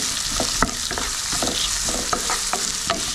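Chopped onions sautéing in a hot pan, giving a constant close sizzle with a run of sharp scraping stirs from a spoon or spatula against the pan, and no voices.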